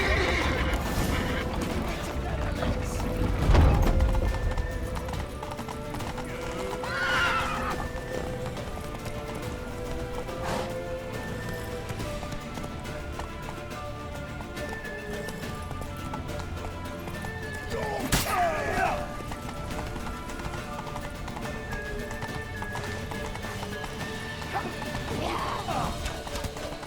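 In The Witcher video game, a horse gallops with steady clip-clop hoofbeats under a continuous wash of game music and noise, with loud neighs and crashing impacts rising over the mix.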